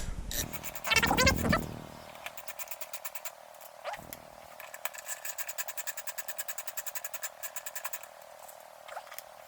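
Bolts are unscrewed from the carbon fiber gas cap cover of a 2020 BMW S1000RR motorcycle: a sharp burst of ratcheting, scraping and clicking, then a steady run of rapid tool clicks, close and fairly quiet.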